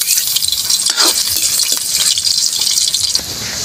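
Garlic sizzles and crackles steadily in a hot pan while being stirred for squid adobo with coconut, a continuous close, bright hiss with no talking.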